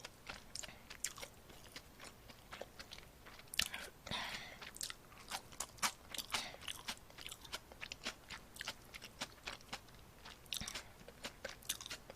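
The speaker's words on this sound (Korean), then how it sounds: "면 먹으면 소리가 나지 않나요?" Someone eats bibim-myeon cold spicy noodles close to the microphone, with repeated wet chewing, crunching bites and short slurps in an irregular rhythm, no talking.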